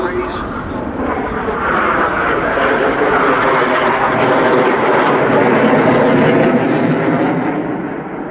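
A Eurofighter Typhoon jet roars loud and close through an airshow display on the English Riviera, a sustained broadband engine rumble that swells and then fades slightly at the end, with a commentator talking over it.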